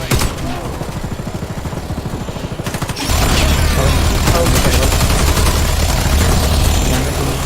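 Gunfire in a first-person shooter video game: a rapid, evenly spaced burst of shots for about three seconds, then a louder, denser stretch of sustained firing and impacts.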